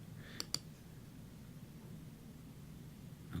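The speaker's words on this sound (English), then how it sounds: "I'm going to click Prepare." A computer mouse gives two quick, faint clicks close together near the start, then only a quiet room hiss remains.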